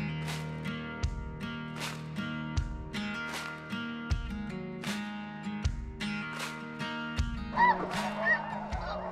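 Snow geese honk repeatedly over a shallow wetland, a dense chorus of loud, overlapping calls from a flock, with many sharp honks rising and falling throughout and no talk.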